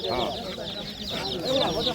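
Chickens or chicks cluck and chirp steadily at a rural poultry market in Bangladesh, close and busy, with a dense overlapping flock throughout and a faint murmur of crowd voices beneath.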